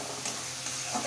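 Chili and black cumin paste fries in a pan with turmeric, sizzling softly and steadily while a spoon stirs it with a few light scrapes.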